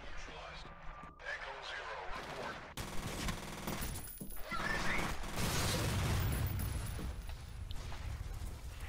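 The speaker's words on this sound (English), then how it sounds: "They just started shooting." Gunfire in the first-person shooter F.E.A.R., dense bursts and rattling shots mixed with mechanical clatter, loud and continuous through a chaotic firefight while a player talks over it.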